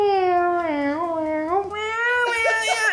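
A person imitates a cat's meow in a drawn-out, rising and falling nasal voice, like the snail Gary from the SpongeBob cartoon, loud and close with a sharper cry at the end.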